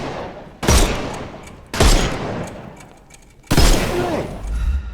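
Three heavy gunshot bursts with booming impacts ring out at roughly one-second intervals in the Sherlock Holmes Chapter One video game as enemies' armour is shot off, each blast loud and followed by a fading rumble.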